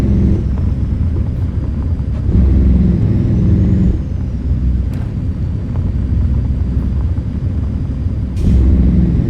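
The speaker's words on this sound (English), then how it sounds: "I'm keeping the J brake on, and every now and then I'll let off the gas so that that J brake engages" Heavy truck engine rumble with an engine (Jake) brake in American Truck Simulator, a loud low drone that swells and eases as the throttle comes off, with brief sharp bursts near the start and end.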